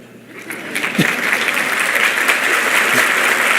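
A church congregation breaks into applause during a sermon, the clapping building from quiet to a loud, sustained roar that carries to the end.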